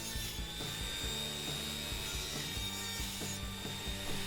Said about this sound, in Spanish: Lo primero que vamos a intentar cortar son unas pajitas